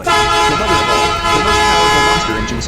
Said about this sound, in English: This must be Ichigo Blockskip at the track honking at us to say hello and to give us salute.